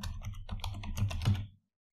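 Quick clattering keystrokes on a computer keyboard, close and moderately loud, in a steady burst of about a dozen clicks before stopping abruptly.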